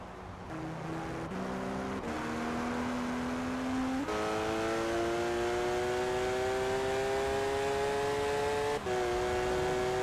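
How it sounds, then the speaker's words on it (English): A 2016 Porsche 911 GT3 RS naturally aspirated flat-six climbs through the gears, its loud engine note rising in pitch with each shift and dropping at every change, close and continuous with no talk. "the first thing that this car makes you aware of is its screaming, and that's in a positive sense, flat 6 engine"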